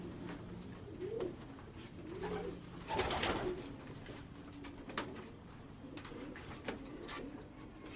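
Racing pigeons coo in holding pens at a breeding station, a soft chorus of overlapping throaty coos with occasional wing flutters and a louder burst of activity near the middle.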